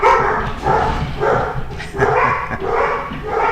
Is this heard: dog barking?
yes